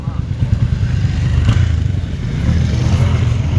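Motorbikes passing along a busy road, their engines giving a loud, close, rough rumble that carries on without a break, with some clatter and a swell of revving midway.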